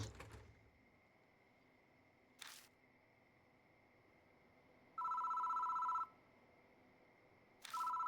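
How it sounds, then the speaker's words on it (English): A telephone rings in two bursts, a roughly one-second electronic trill followed by the start of another, faint against a quiet room with a few soft clicks in between. "there's the phone ringing"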